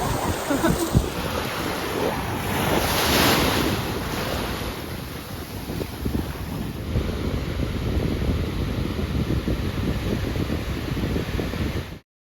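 Sea waves on the Colombian coast near Santa Veronica roll and wash in close to the microphone, with wind buffeting and a steady surf roar that fades out at the end.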